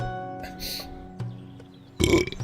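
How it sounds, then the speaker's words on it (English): A man lets out a couple of short burps up close, the second louder and rougher, between quiet room noise. "I burp a lot now."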